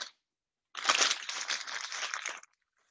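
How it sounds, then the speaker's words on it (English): Hands rinsed under a running kitchen tap while cooking carne asada with onions and peppers; a close, splashy gush of water lasting under two seconds, starting and stopping abruptly. "I'm gonna rinse my hands really quick because my hands are oniony."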